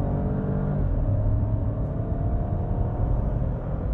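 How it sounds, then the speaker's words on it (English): A 2022 Opel Mokka crossover accelerates from the interior, with a steady low engine rumble and road noise that swells slightly, heard alone without talk. "when you press on the gas pedal, you do feel there's quite a punch into it."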